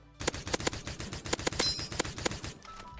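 Rapid bursts of gunfire in the browser shooter Krunker.io, a dense run of sharp cracks in quick rhythm, loud and close, then tapering off.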